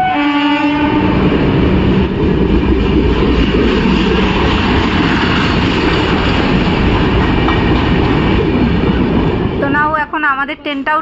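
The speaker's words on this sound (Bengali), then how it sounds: "আমাদের ট্রেনটাও ঢুকে গেছে" A train pulls into a station, its loud rumbling and clanking wheels filling the scene with a horn sounding near the start, and the rolling noise drops away near the end as voices come in briefly.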